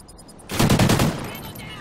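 Rapid gunfire bursts in a competitive first-person shooter match, a dense volley of shots lasting under a second, then fading into a lingering tail.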